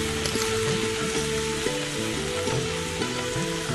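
Boiled, quartered tinned mushrooms frying in a pan produce a constant close sizzle with soft crackling, while a tonal background melody runs underneath.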